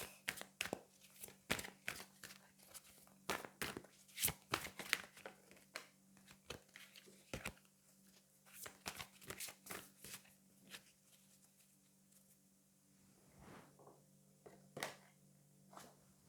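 Oracle angel cards being shuffled and drawn by hand, a long run of crisp riffling flutters and soft card slaps at irregular intervals, close and quiet against a low steady hum.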